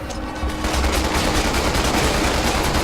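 Sustained, rapid automatic gunfire from the zombie-shooting video game Resident Evil 6, loud and dense, with shots blurring into one continuous rattling barrage and no voices over it.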